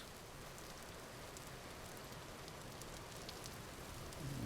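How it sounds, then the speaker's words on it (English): Rain falls in the Vintage Story video game, a quiet, even patter with scattered droplet ticks, steady throughout and heard alone. "Gotta love the rain."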